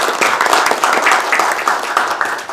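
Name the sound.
audience applause welcoming a guest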